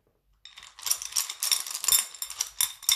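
Pebbles clatter and rattle in a small bowl, a dense, continuous run of crisp clicks lasting a few seconds, close and fairly quiet, with no voices.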